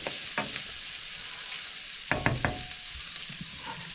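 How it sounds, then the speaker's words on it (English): Beef chilli frying in a pan with a constant bright sizzle, broken by a cluster of quick scraping stirs midway and a few lighter knocks; no one speaks. "Fry it all off together."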